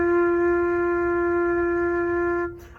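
A low F on a flute, blown with slow air, holds as one steady, soft, breathy note for over two seconds, alone and close, then stops.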